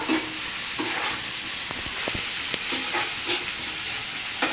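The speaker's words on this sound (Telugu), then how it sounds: "ఉల్లిపాయ పచ్చిమిర్చి వేసేసుకోవాలి. కలుపుకుందాము." Onion and green chilli sizzle loudly in a hot pan on high flame, a steady close frying hiss broken by scraping stirring strokes, with no voices.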